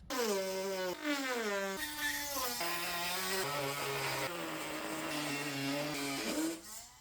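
A handheld power tool cuts and trims the plastic bottom section of a car's rear diffuser, giving a loud, steady whine whose pitch steps up and down as the blade loads and unloads, running nearly continuously up close with no talking.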